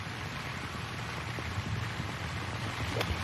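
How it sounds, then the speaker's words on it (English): Gusts of a summer squall buffet a golf course during a junior amateur match, a dense, steady rushing blow pressing on the microphone throughout, with no clear voices. "Nice little summer squall has snuck up on us here."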